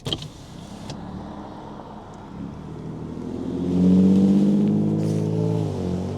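A Bentley Continental V8 engine hums nearby, then swells as the car revs and rolls past, its tone rising and settling before fading slightly.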